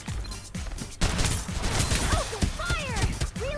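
Video game gunfire, a crackling flurry of shots and impacts starting abruptly and running on with sharp, cluttered bursts, fairly loud and busy throughout, with no clear speech.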